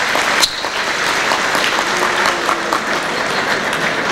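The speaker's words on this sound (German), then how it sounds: "dass er sich diesen Applaus verdient" Sustained applause from an audience at a company celebration honouring a retired works council member, a dense steady clatter of clapping hands filling the room for several seconds without talk.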